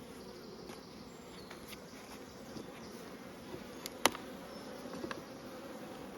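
Grumpy honey bees buzz steadily at an open hive, a dense, continuous drone with a few close, sharper passes near the listener and no talking.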